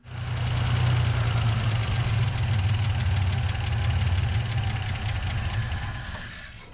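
An old 1963 GMC service truck engine running at a steady idle, a loud, close, rough low rumble with a knocking pulse throughout, holding even before easing off as it shuts down at the end.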